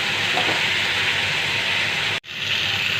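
Rohu fish fries in a pan with turmeric while being stirred, giving a dense, even, close sizzle that holds steady and briefly cuts out near the end before resuming.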